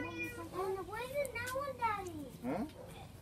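A kitten gives several rising and falling meows close by, mixed in with a child and an adult talking quietly.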